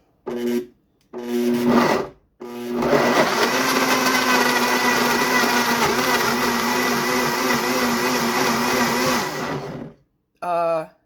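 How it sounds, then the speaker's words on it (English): A blender mashing strawberries whirs loudly for several seconds after two short pulses, then cuts off before a final brief burst; the motor tone strains steadily as it churns. "we're going to mash these up in the blender because it's easier."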